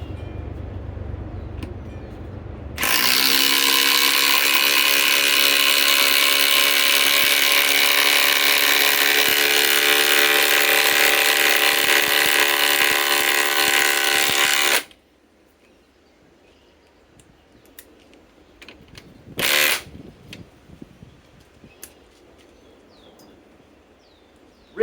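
A Milwaukee M18 Fuel Gen 4 impact driver on a fully charged 3-amp 21700-cell battery drives 6-inch lag screws in one long, loud, continuous whirring, hammering run of about twelve seconds. A quiet pause and one brief burst follow, with no talk.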